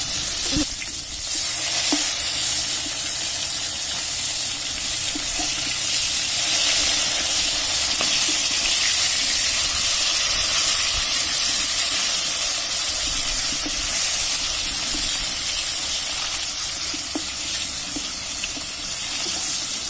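Fish fry in hot oil in a home kitchen, a continuous close sizzling hiss that holds steady for the whole stretch, with faint clinks now and then and no talking.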